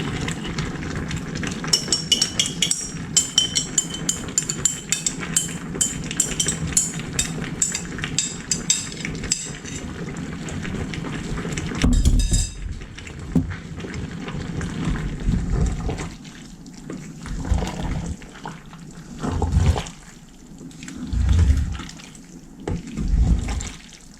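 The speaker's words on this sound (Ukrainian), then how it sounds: "заливаю заливку." Hot marinade poured over an eggplant vegetable salad in a jar for winter preserving. It makes a close, continuous liquid trickle and splash, followed by scattered clinks and soft handling knocks.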